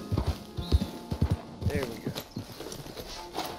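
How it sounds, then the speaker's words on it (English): Horse hooves clip-clop in Red Dead Online, a quick irregular run of close, punchy hoofbeats with a faint whinny, while someone talks briefly over them. "what is my horse doing?"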